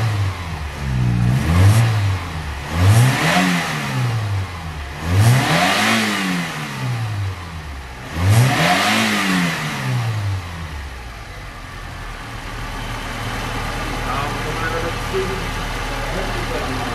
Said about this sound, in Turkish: aracımız şu anda ısındığı için rahat bir şekilde gaz verip ayar yapabiliyoruz